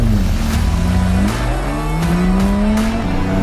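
A 1963 Porsche 356B pulling away, its engine revving close by with rising and falling pitch through a few gear changes, loud and alone without talk.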